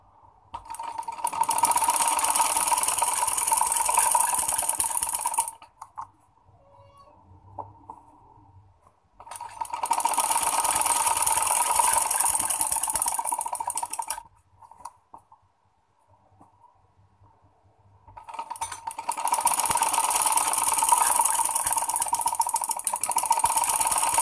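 A sewing machine stitches trouser fabric in three long runs of fast, even mechanical whirring and clatter, each about five seconds, separated by near-silent pauses, close and steady.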